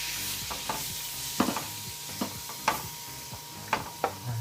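Tofu pieces frying in vegetable oil for sizzling tofu sisig, with an irregular run of sharp stirring clatters and scrapes over a soft, steady sizzle, close and moderately loud with no speech.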